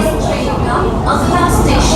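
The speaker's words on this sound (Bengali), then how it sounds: "এই স্পিডে ট্রেন চলেছে" An AC local train on the Ranaghat–Sealdah line rumbles along at about 100 km/h with a continuous loud roar and rattling, close and steady, while a voice talks over it.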